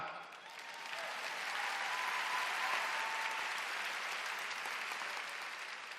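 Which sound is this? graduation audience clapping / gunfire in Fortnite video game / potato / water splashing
graduation audience clapping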